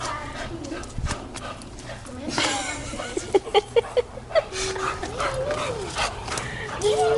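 A female Campeiro Bulldog yips and whimpers in a short burst of quick, excited sounds, with a person talking nearby.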